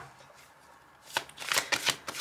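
Tarot cards shuffled close up after a quiet start, a burst of quick riffling flutters and taps that grows loud in the second half, with no talking.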